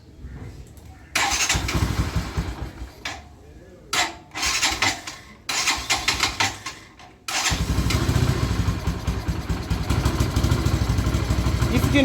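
A 2020 Bajaj Boxer X150 motorcycle is cranked several times with short starter bursts before catching and settling into a loud, steady idle, close by with a brief quiet between attempts.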